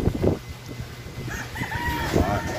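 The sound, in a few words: rooster crowing, fighting cocks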